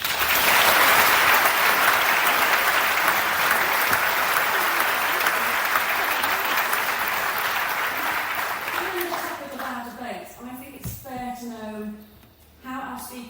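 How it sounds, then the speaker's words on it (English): Audience at a debate on abolishing private schools applauds loudly and steadily for about nine seconds, then the clapping thins and fades as a speaker's voice takes over near the end. "Let's give her a round of applause."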